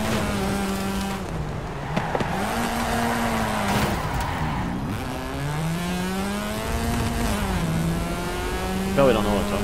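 A car engine in the video game Forza Horizon 5 drones and revs steadily, its pitch rising and falling with gear changes, the exhaust ringing with a hollow echo off walls; a voice talks over it.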